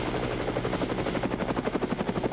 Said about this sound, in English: Sir, I hear a chopper in the sky right now.